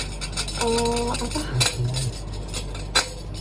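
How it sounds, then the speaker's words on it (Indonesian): Metallic jingles on a hadroh or marawis frame drum give a few bright clinks and chinks, close and fairly loud, with no voice over them. "kerincingannya supaya saat dipukul ia juga memberikan efek bunyi"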